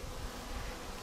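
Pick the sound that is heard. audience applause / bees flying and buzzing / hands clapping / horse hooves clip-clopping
bees flying and buzzing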